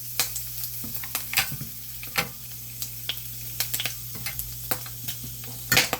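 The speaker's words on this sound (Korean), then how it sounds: "목이버섯은 튈 수가 있어요. 그래서 조금 볶을 때 조심하셔야 됩니다. 제가 이렇게 튀는 소리 보여드릴게요." Wood ear mushrooms sizzle in a pan while being stir-fried for japchae, with a low continuous fry hiss broken by scattered sharp pops and spatters, some louder bursts near the end.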